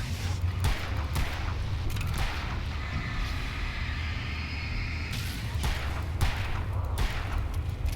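Gunfire rings out in Alan Wake at a logging camp at night: a run of loud, rapid shots and booming reports over continuous heavy game noise, close and dense, with some pauses between bursts.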